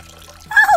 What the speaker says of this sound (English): I think I should pour some cold water.